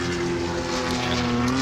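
Formula 1 car engine at the Belgian Grand Prix droning steadily and loudly with a sustained tonal whine, a constant pitch held close throughout without voices.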